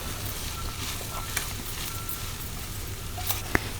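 Rice and vegetables with fresh coriander leaves get stirred in a pressure cooker for veg biryani, a soft steady sizzle with faint scraping and a sharp clink of the spoon near the end, no talk.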